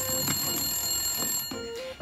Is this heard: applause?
no